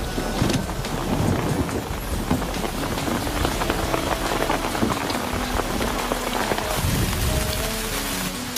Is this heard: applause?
no